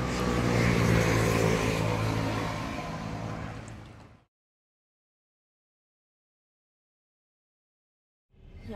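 A Mercedes-Benz car drives through Forte dei Marmi. Its engine and road noise drone steadily for about four seconds, then cut to silence and return briefly at the end.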